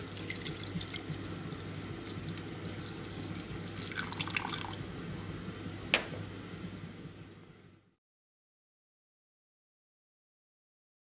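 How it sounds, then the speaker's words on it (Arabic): Water pours steadily from a tap into a cooking pot holding cinnamon sticks, a continuous splashing stream with a faint clink partway through, stopping abruptly before several seconds of silence. "ودابا درتو في الكاسرونة درت عليه عويدات القرفة وغادي نزيد عليه الماء كتلاحظو"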